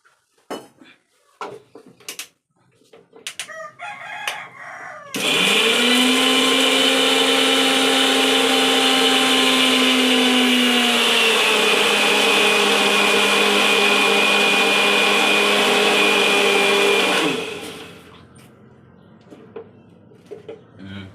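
Clinks and scrapes of a utensil against a container, then a blender grinding soup ingredients with a little water starts with a loud, steady whir for about twelve seconds before winding down.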